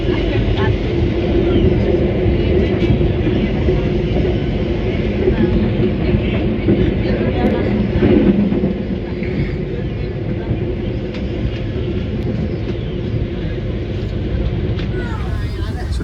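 The interior of the economy train KA Progo heading toward Jakarta carries a steady low rumble and rolling hum of wheels on rails, loud and continuous under occasional talking.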